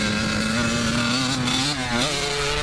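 A 34-year-old motocross motorcycle is ridden at a cross track and shifted into second gear for a turn; the engine drones loud and close throughout, its pitch dipping and rising slightly through the corner.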